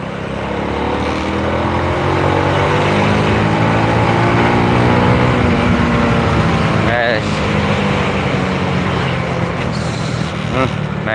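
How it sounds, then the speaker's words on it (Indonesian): Motorcycle engine running with popping backfires in the exhaust and a slipping clutch plate, a loud, steady rising drone with brief crackles, heard up close. "Nembak di knalpot jot gitu, dan kampas koplingnya selip teman-teman."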